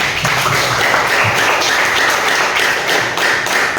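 Students in a classroom give a steady burst of clapping that runs the whole moment, loud and close with a few heavier taps and thumps mixed in and no talk.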